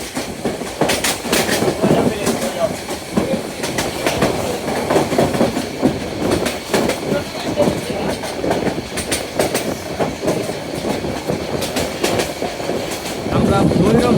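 Cox's Bazar Express train running at speed at night near Bhairab Bazar Junction, heard from inside the carriage as a loud steady rumble with rhythmic clickety-clack of wheels over rail joints.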